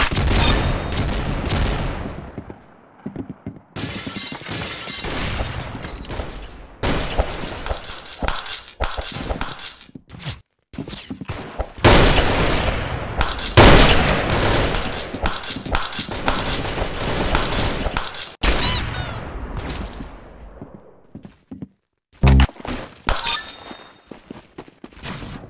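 Gunfire from the Roblox game Arsenal crackles in rapid, loud volleys almost without pause, with brief gaps and sharp bursts, some with a glassy clinking edge, and no talking.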